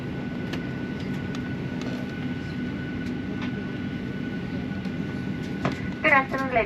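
Inside a Ryanair airliner during pushback and engine start, a steady low drone fills the cabin at an even level, and a brief voice breaks in near the end.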